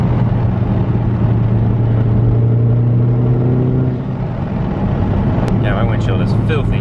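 A Subaru with a cylinder misfire and roughness accelerates hard at full throttle, a loud steady engine drone with a low humming tone and road rumble heard from inside the car, easing off near the end as someone speaks.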